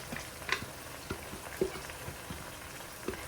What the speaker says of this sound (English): Then I'm going to stir it and let it fry for about 5 to 7 minutes on a medium heat.